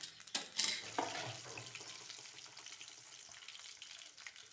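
Chana dal and urad dal hit hot oil already holding mustard seeds and cumin for a tempering, crackling loudly at first, then settling into a steady close sizzle with a little stirring, no talk.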